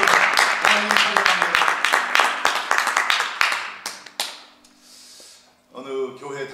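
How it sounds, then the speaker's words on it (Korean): A church congregation at a revival meeting breaks into applause, dense rhythmic clapping for about four seconds that trails off into quiet before a voice begins speaking. "우리 하나님께 영광의 박수 한번 올려드리겠습니다."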